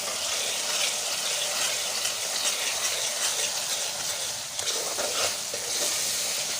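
Potatoes frying with spice masala in a pan, a soft steady sizzle with faint stirring scrapes, quiet and continuous with no talk.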